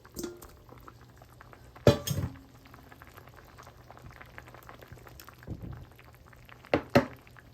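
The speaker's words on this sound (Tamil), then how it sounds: "இப்போ மாங்காய் தக்காளி அவிஞ்சிட்டுது இப்போ எடுத்த மீனை போட்டுக்கொள்கிறேன்" Fish added to a simmering mango and tomato curry, a quiet bubbling simmer punctuated by a few sharp clatters of a utensil or pot and soft splashes as pieces go in.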